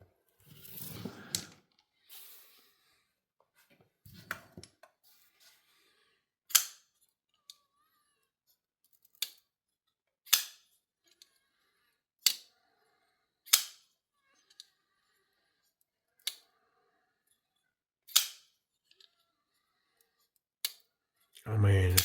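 An SRM 9015 folding pocket knife snaps open and shut repeatedly, a string of sharp, close metallic clicks spaced a second or two apart with quiet gaps between, and a brief rustle of handling at the start.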